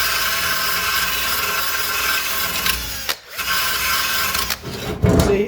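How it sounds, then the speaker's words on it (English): Sandpaper, 240 grit, scrubs surface rust off metal on a Mercedes W116 300SD suspension and brake part, producing a continuous loud, close rasping scrape with brief pauses between strokes. "See how we just sanded off some of that surface rust to get to the good metal?"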